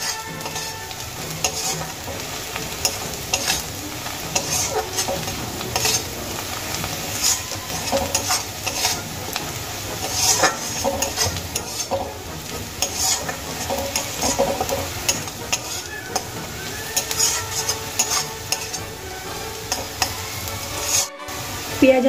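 Onions frying in a pan, a continuous close sizzle with scraping and stirring sounds throughout, no talk.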